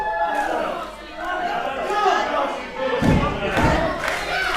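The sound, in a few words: wrestling arena crowd cheering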